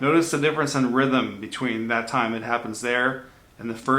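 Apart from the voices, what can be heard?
No everyday noises stand out.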